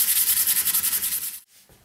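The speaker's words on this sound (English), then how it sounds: "Sanding off the jigsaw blade marks" Rhythmic back-and-forth sanding on guitar wood, smoothing away jigsaw blade marks during a custom Les Paul build, a steady scratchy rasp in even strokes that stops abruptly near the end.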